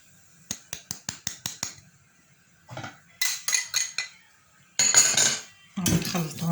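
Two eggs are whisked with cornstarch in a bowl, making quick rhythmic metallic clinks and scrapes of a whisk or fork against the bowl in several close bursts, separated by brief pauses.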